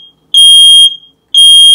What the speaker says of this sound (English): The alarm may sound.